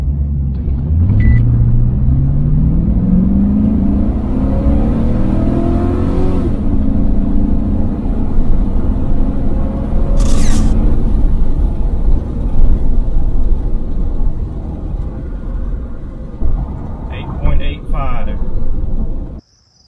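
A GMC Sierra pickup truck accelerates hard from a standstill toward 60 mph, its loud engine rumble climbing steadily in pitch with a shift partway through, then easing off near the end.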